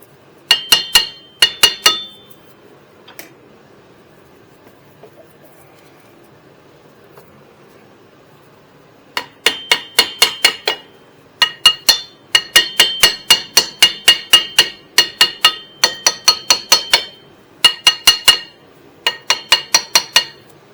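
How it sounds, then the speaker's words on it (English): Sharp metallic hammer strikes on the rear brake drum of a Toyota Corolla, a quick pair of bursts, a long pause, then repeated rapid clusters of ringing clangs, close and loud. "let's get a little hammer to give that a little"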